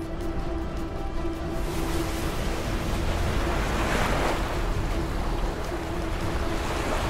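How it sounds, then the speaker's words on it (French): Strong wind roars steadily over a constant wash of crashing waves at a carp-fishing lake, with buffeting gusts against the microphone throughout. "on en voulait du vent, on en a"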